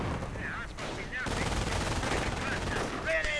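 Dense gunfire in a World War II real-time strategy battle, sustained rifle and machine-gun fire crackling at moderate volume as infantry come under suppressing fire, with no voices over it.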